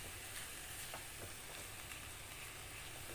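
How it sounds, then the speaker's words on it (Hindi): Onions are stirred into minced keema in a pan for samosa filling, giving a faint, even sizzle with light scraping from the stirring. "अब प्याज को मिक्स कर दूंगी मैं इसमें"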